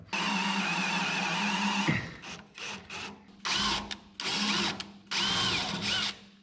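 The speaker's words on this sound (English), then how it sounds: "you can put a Harbor Freight drill bit in your impact and it does just fine" A power drill whines in several bursts: one long steady run, then short start-stop pulses with brief pauses between, close and loud. An impact driver fitted with a drill bit, drilling on a 1980 Chevrolet squarebody 4x4 truck.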